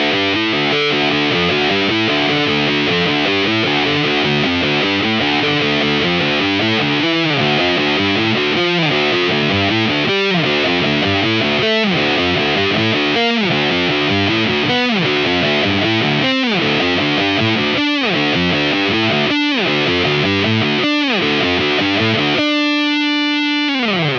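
A heavily distorted electric guitar plays a cover riff through effects, loud and continuous. Rhythmic chugging stabs recur steadily, and a sustained held tone rings out at the end.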